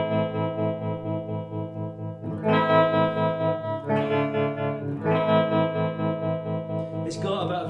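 Electric guitar through a Marshall Vibratrem pedal set to tremolo, with strummed chords that pulse in a fast, even throb and let each chord ring out, loud and close with no voice.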